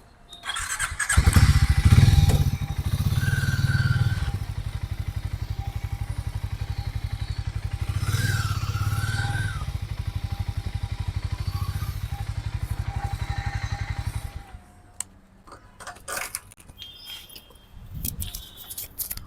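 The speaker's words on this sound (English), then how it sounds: "So we'll just shift the bike location." A Harley-Davidson X440 motorcycle idles loudly and steadily as it is moved, with some rattling and squeaks over the engine note. The engine then cuts off, leaving faint clatter and handling noises.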